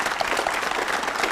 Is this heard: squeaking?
no